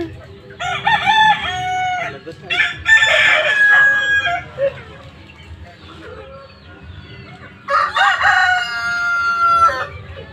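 A rooster crows loudly several times in long drawn-out calls, with clucking and soft background noise between the crows.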